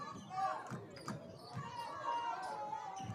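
A basketball bounces on a hardwood court during a men's college game between the Timberwolves and Pasco-Hernando Bobcats. Several dull, spaced thumps sound under steady commentary and crowd murmur.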